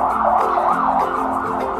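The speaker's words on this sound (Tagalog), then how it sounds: "may ambulansya pa" An ambulance siren wails outside, its rising and falling tone repeating steadily through the whole stretch at a fairly loud, constant level, with no talking over it.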